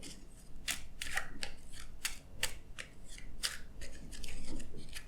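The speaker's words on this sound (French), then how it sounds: "pendant que moi, je bats les cartes" Tarot cards being shuffled by hand, a series of quiet crisp riffling and sliding bursts repeating irregularly at close range.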